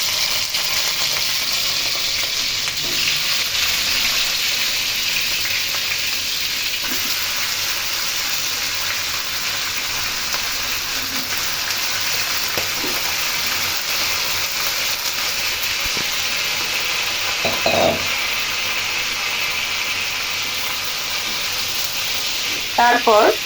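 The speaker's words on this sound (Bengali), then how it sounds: "অবশিষ্ট পেঁয়াজের মধ্যে আমি ২টি দারুচিনি, ৩-৪টি এলাচ, ৫-৬টি লবঙ্গ দিয়ে একটু ফ্লেভার ছড়ালে মুরগি ছেড়ে দিলাম" Chicken pieces sizzle in a pan of leftover fried onion with cinnamon sticks, cardamom and cloves for a spicy jhal murgi, a steady hiss of frying with occasional stirring clatter throughout.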